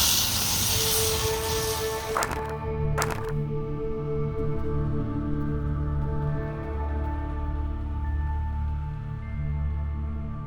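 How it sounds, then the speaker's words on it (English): Bacon sizzles in a pan over a campsite fire in the wilderness, a steady close hiss and crackle with a couple of sharp pops early on, continuing alone without voices. "Serene American bacon cooking in the wilderness."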